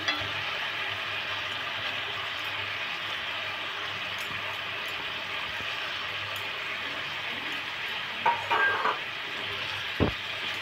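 Moong dal fries in a pan with a steady, moderate sizzle, joined near the end by a few brief scrapes and a sharp clink of a utensil.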